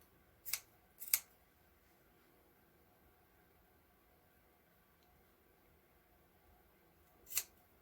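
Scissors snip fringe into fabric for a no-sew doll winter hat: two quick crisp cuts close together near the start, then a quiet pause and one more snip near the end, close and faint against a quiet room.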